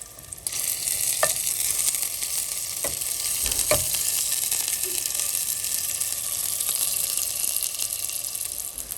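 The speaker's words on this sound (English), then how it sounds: "I'm going to turn them and brown them and cook them for about 8 minutes" Moroccan lamb meatballs of ground meat browning in a hot pan give a steady, dense sizzle throughout, with a few sharp clacks as they are turned.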